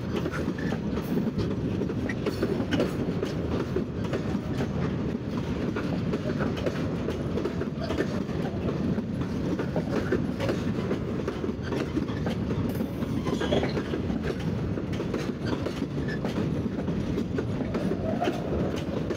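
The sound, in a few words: Bangladesh freight train running on tracks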